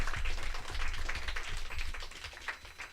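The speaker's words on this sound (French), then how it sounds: "on peut l'applaudir pour toutes ces infos sur le VTT" A studio audience at a live French broadcast claps steadily for about three seconds, a moderate, even patter of applause with no voices over it.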